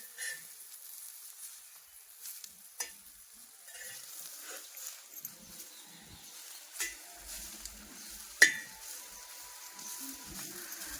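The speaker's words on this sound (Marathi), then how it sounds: "छान असं भाजून घ्यायचं थोडस तेल टाकायचं" Ambadi leaves roasting in a pan with a little oil, heard as a faint, steady sizzle with occasional stirring scrapes and a sharp clink near the end.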